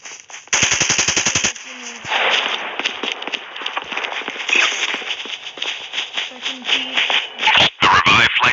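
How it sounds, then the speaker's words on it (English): Rapid gunfire in a Call of Duty battle royale match: a dense automatic burst up front, then scattered shots, bursts and footstep-like shuffling, loud and close, with faint game voices in the background. "Some bullet voice, if you could hear."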